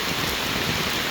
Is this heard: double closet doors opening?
no